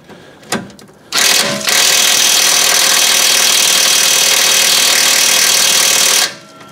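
A power impact wrench works at a rusty part on a Fiat 500 Pop, a loud, continuous rattling hammer sound lasting about five seconds after a few short bursts, then stopping abruptly.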